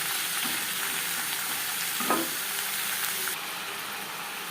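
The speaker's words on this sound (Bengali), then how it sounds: "2 মিনিট নাড়াচাড়া করে নেওয়ার পর দিয়ে দেবো মিষ্টি আলু" Sweet potato and pumpkin fry with a fish head in a pan, giving a constant close sizzle with a brief stirring scrape partway through, and then the sizzle eases a little.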